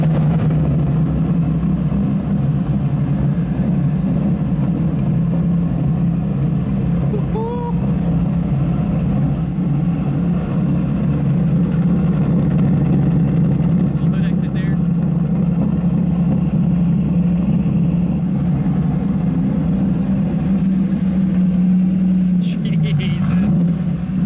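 A turbocharged BMW E46 M3 with an S54 engine and a giant 88 mm street turbo runs at a loud, steady idle close by, a continuous low drone that holds throughout while people talk over it.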